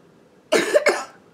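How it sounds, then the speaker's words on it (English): A four-year-old child coughs twice in quick succession, close and fairly loud, with short harsh bursts and no talk. "you can't cough on me like that"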